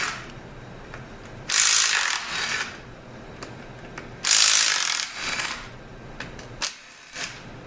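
A pneumatic impact gun rated at 120 foot-pounds works on a 6T70 Gen2 transmission teardown. It fires two loud rattling bursts of about a second each, with softer mechanical clicks and clatter around them in a workshop, and no speech.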